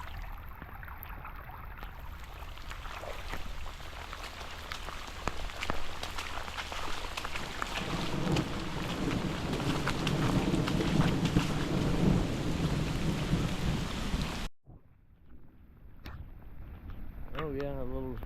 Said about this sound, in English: we got a bunch of rain here really quick.